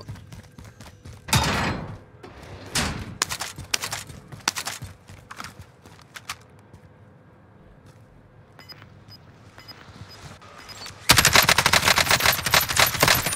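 Bursts of machine gun fire from a first-person shooter game, some rapid volleys loud and close with sustained heavy firing at the end, others sparser, with quiet gaps between.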